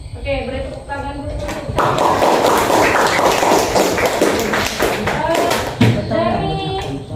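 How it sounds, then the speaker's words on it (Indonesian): Classroom applause from students in a lesson, a burst of many hands clapping for about four seconds, framed by a teacher's talk before and after it. "Oke, beri tepuk tangan dulu."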